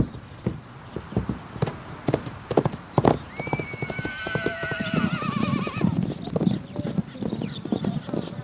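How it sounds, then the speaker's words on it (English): Horses walking with steady clip-clop hooves on firm ground, joined midway by a loud, wavering neigh from one horse, close and clear over a light outdoor background. "Their name for the horses is Taki."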